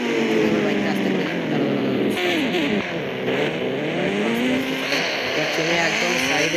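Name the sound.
motorbike engine in video game Indian Bikes Driving 3D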